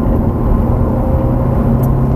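A Ferrari F430 accelerates hard along the Longcross Proving Ground, its engine a loud, steady, close roar with no break across the whole stretch and no voices.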